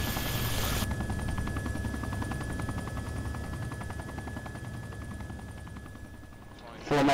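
An Apache helicopter with a failing tail rotor drones steadily with rapid rotor chop in a military video game, the whirring continuous and close throughout before a sharp burst of other noise at the end.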